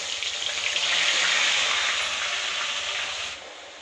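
Onions going into hot oil with cumin seeds, frying in a steady broadband sizzle that swells loudly and then eases off toward the end, close up with no talking.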